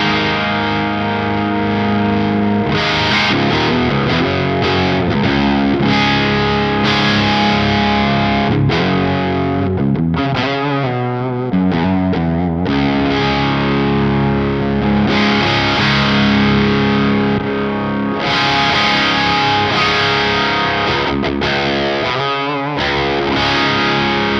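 Electric guitar played through an NRG Reactor IV pedal with the gain pushed higher, giving dense, heavily distorted chords and sustained riffs at a loud, constant level with brief gaps between phrases.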